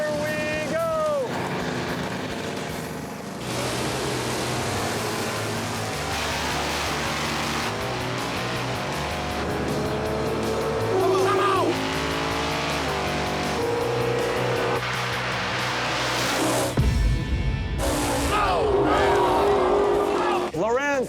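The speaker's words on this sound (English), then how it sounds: "black 1980 Camaro against Lorenz Atkins' midnight blue 1980 Camaro cousin." Two 1980 Chevrolet Camaros, one midnight blue, drag racing side by side, engines roaring loud and steady under a commentator's voice, with a sharp burst of revving near the end.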